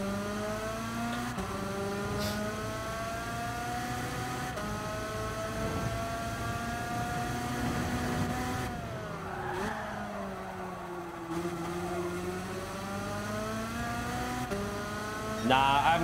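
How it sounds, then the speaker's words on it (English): A go-kart engine in the racing video game Gran Turismo 7 whines steadily at high revs, its pitch climbing and dipping as the kart accelerates and slows through corners, with a brief tire screech near the end. "This is not easy to drive, this go-kart"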